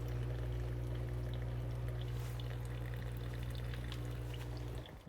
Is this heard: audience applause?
no